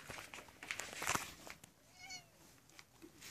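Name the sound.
cat meowing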